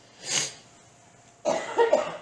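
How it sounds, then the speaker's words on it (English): A person coughs nearby: one breathy cough, a pause, then a louder burst of several rough coughs. "Now I'm the one coughing."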